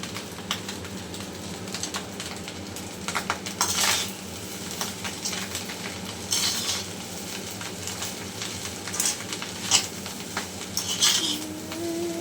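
A spatula scrapes and clinks against a pan while mixed fried rice with sugar and ghee is stirred, irregular metallic taps and scrapes close by over a low hum, with no talking.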